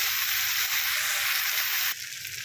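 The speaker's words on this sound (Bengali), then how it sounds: "এখানে আলুটা একটু ভালো করে ভেজে নিয়ে ফেরত আসছি।" Potatoes frying in hot oil give a dense, even, hissing sizzle that stays loud and close, then drops a little in level near the end, with no voices.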